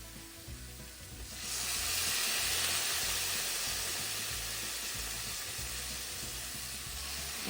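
Chopped vegetables for paneer jalfrezi sizzle in a hot pan after a splash of vinegar, a loud steady hiss that flares up after a quiet start and keeps crackling close by.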